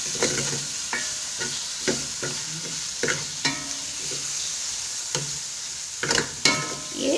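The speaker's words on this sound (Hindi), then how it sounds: "चिकन डालकर इसको अच्छी तरह से हमने भूनना है।" Chicken pieces sizzle and fry in a pan with a steady hiss, broken by repeated scraping stirs of a spoon at close range, no speech.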